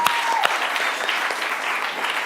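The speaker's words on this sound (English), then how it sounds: "Give him a round of applause," An improv theatre crowd claps loudly for new workers, a thick, continuous burst of applause with a brief whistle near the start, filling the room throughout.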